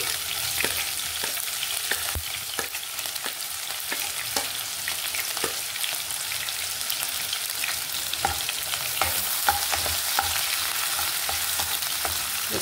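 Onions and green chillies frying in oil with mustard and cumin seeds, a steady close sizzle broken by repeated light clicks and scrapes of stirring.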